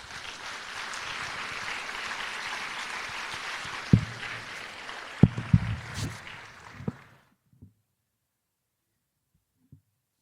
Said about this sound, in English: Let's go ahead and give Autumn Rauch a round of applause.